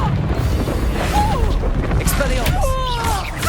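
Confringo fire-blast spells in the video game Hogwarts Legacy, a dense barrage of booming bursts and crashes under battle music and shouting voices, loud and close throughout.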